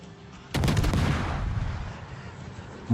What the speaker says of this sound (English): Try and get some shots down on the Yoshino.